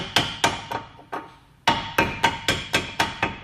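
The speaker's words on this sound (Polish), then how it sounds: "majzel wsadzić, czy jakiś gruby, płaski śrubokręt i kilkukrotnie uderzyć młotkiem" Hammer blows driving a chisel into a ball joint on the control arm of an Opel Astra during replacement, a run of sharp metallic strikes: several evenly spaced hits, a short pause, then six more in steady rhythm, close and loud.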